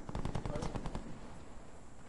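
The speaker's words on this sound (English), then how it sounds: "Oh, sentry turret." A sentry turret in a PS4 shooter fires a rapid burst of automatic shots, loud and close for about a second, then trails off into a faint rumbling tail.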